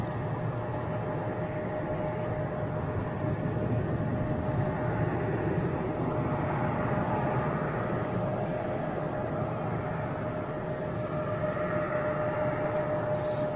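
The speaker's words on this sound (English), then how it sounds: "There's a little private, that will be a private jet, I have no doubt." A private jet rumbles steadily at Boston's Logan airport, a continuous broad engine roar with a constant whining tone, distant and unchanging, with no talk.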